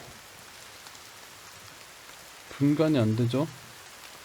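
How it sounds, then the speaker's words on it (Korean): Steady rain falls in the survival video game The Forest, a soft continuous hiss throughout, with someone speaking briefly over it near the end. "빗소리 때문에 더"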